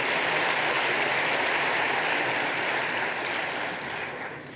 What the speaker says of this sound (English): How about another round of applause for Dr.